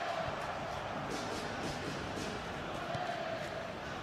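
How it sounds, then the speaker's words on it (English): Indonesian fans roar steadily in a stadium crowd during an Indonesia versus Brazil FIFA video game match, a dense, continuous wash of cheering with no break. "that's woken up the Indonesian fans here in the crowd"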